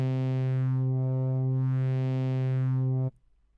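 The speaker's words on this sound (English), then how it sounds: "Now at the moment the waveform we have selected is a sine wave." A steady, pure synthesizer sine tone with a slow wavering oscillation in its upper harmonics, holding evenly for about three seconds, then cutting off abruptly.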